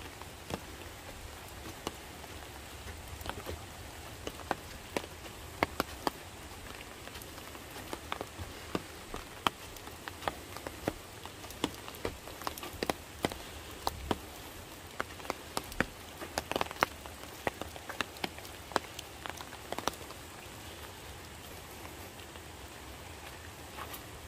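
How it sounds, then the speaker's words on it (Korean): Steady autumn rain falls across a mountain valley gorge at Chiaksan's Guryong Valley, a dense, continuous hiss of drops with scattered sharper taps on nearby surfaces throughout, no voices. "비가 제법 많이 이 가을 비가 오고 있는 치악산 구룡계곡입니다"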